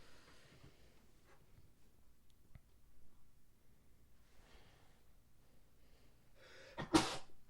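A single sharp sneeze bursts out near the end after several seconds of quiet breathing and faint rustling, close to the microphone.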